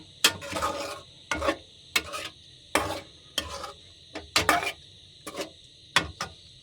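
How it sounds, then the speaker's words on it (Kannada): Eggs being stirred in a cooking pan, with about ten rhythmic scraping strokes against the pan and a light sizzle underneath, close and clear with no talking. "ನೋಡಿ ಎಗ್ಸ್ ಹಾಕಿದ್ದೀನಿ ಇದಕ್ಕೆ"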